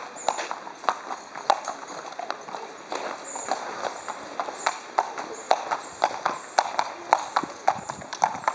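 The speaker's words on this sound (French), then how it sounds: "Cheval qui se déplace très bien." Two-year-old racehorse being walked at a Saint-Cloud sales ring, its hooves clip-clopping in a steady, close rhythm with voices talking over the footfalls.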